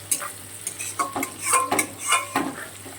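Spice masala being stirred and fried in a pan, with a metal spoon scraping and clinking in an irregular rhythm over a soft, steady sizzle, close and fairly quiet.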